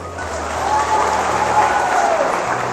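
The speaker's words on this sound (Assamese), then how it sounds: "হাঁহিবলগীয়া নহয় তালি বজাবলগীয়া" An audience breaks into applause, a dense, even spread of clapping that builds slightly and holds steady, fairly loud and close.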